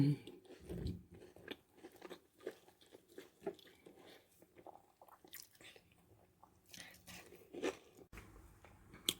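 Crunchy fried yam balls bitten and chewed up close, irregular crisp crunches and moist squishing bursts scattered over several seconds.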